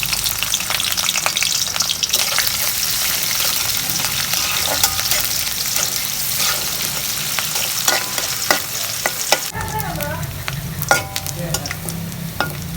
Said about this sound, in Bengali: তেল গরম হয়েছে, পেঁয়াজ দিয়ে দিচ্ছি